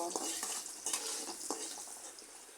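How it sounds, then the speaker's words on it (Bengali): Chopped onion fries in a pan for a broiler chicken curry, with a spatula scraping and stirring in several distinct strokes over a bright, steady sizzle, close and without speech. "পেঁয়াজ কুচিটা একটু লাল করে নেব"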